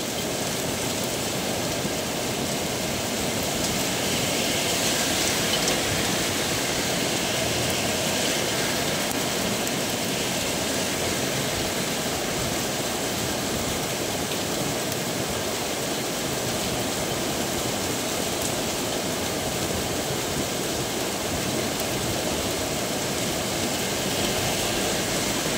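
Heavy rain pours at night in a dense, unbroken roar that stays loud and even from start to finish, with no voices and no pauses.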